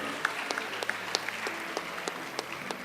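Quiet, sparse clapping from a school audience at a Model United Nations closing ceremony: a thin scattering of individual claps, steady for a few seconds, with a soft murmur of the room underneath.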